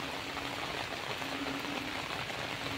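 Steady rain falls continuously, a dense even hiss with no pauses, moderately loud and close, with no voices.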